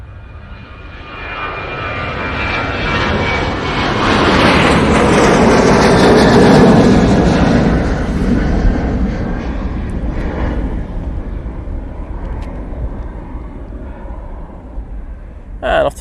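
A Ryanair Boeing 737-800 airliner rotates and takes off at Manchester Airport, its jet roar swelling to a loud peak then slowly fading into the distance, with a voice talking over it.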